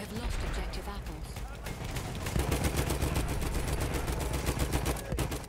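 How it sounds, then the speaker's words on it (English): Continuous rattling gunfire from the World War I shooter Battlefield 1, dense bursts of shots layered with game noise and people talking over it throughout. "This gun is really hard to aim."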